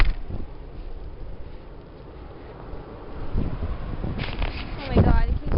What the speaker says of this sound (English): it's really fucking windy